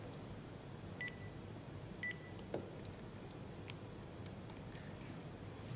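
Touch-tone dialing beeps on a live broadcast phone line as a call connects, a few short separate tones over a steady background hiss, with no voices.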